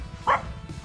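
A dog nearby gives a single short bark, a quick, moderately loud yap that stands out briefly against quiet outdoor background noise.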